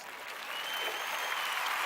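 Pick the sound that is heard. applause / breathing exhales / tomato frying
applause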